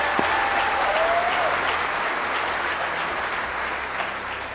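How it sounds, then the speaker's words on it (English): A crowd applauds recruit class 196 at the academy with sustained, even clapping throughout, and a brief whistle-like tone rises over the applause near the start. "let's go ahead and clap for them"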